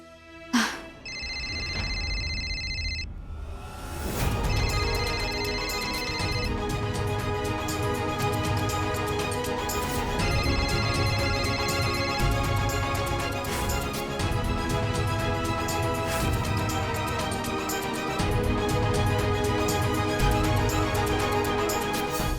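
A phone ringtone plays on and on, a steady electronic melody with repeating tones filling the whole stretch.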